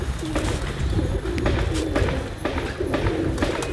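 Repeated soft pigeon coos roll out in a steady rhythm over a noisy outdoor background, fairly close and continuous.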